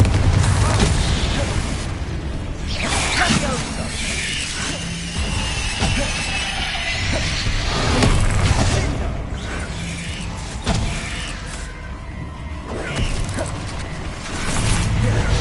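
Spell explosions, Bombarda and Confringo, in the Hogwarts Legacy video game: dense, loud crashes and booms layered over constant combat noise, with a voice talking throughout.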